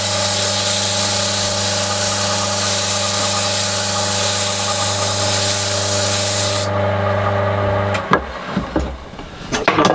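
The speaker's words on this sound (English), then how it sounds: "I can just pop this on my own lathe now and make sure" A small shed lathe runs steadily with a constant motor hum and a high whine for about eight seconds, then winds down into a few handling clunks and knocks.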